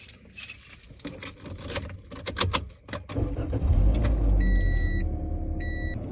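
A car sets off at the start of a road trip: keys jangle and rattle close by, then the engine starts and settles into a steady rumble while soft electronic chimes repeat in two short bursts.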